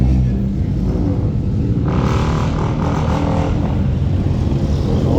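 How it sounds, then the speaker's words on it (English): A Honda Civic's engine revs at an outdoor import car show in downtown Los Angeles, a loud, dense roar that swells midway over steady crowd and traffic noise. "Why did that Civic sound like that?"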